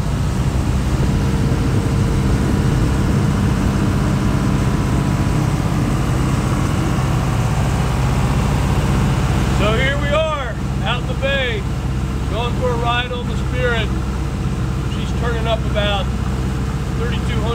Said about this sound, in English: Let's go for a boat ride.